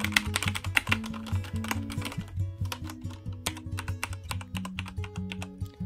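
Rapid, steady keyboard typing, close up, with crisp clicky keystrokes in irregular bursts and no voices.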